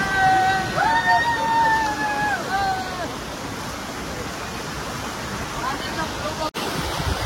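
A forceful waterfall roars loud and continuous at close range, a broad steady rush, with voices talking over it during the first few seconds.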